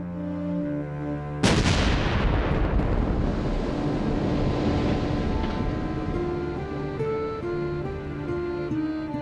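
A sudden deep, loud blast erupts from steady background music and rumbles on, as if rock walls in World War I tunnels were being blown apart.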